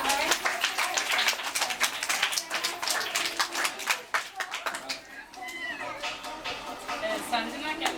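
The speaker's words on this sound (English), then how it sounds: "Clap hands." Children clap their hands at a school fruits day celebration, a dense burst of rapid claps that fades after a few seconds while voices carry on over the room.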